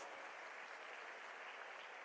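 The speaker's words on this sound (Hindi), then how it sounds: "तालियां बजती रहनी चाहिए ऑडियंस" Audience applause at a Delhi school event as students are introduced, heard as a faint, continuous wash of distant clapping from a large crowd, even and unbroken throughout.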